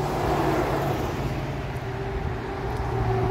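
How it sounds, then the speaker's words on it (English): Steady roar of highway traffic passing by outdoors, a dense continuous rumble of vehicles fairly close and loud, with no talking. "More traffic coming now"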